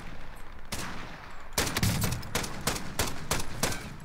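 Rapid bursts of video game gunfire with heavy recoil crack out in several sharp volleys, loud and close, separated by brief pauses after an opening single shot.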